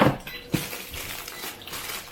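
Hash browns are flipped in a frying pan as part of a big breakfast with bacon, giving a short close clatter of utensil on pan over a steady sizzle, with a brief sharper knock early on.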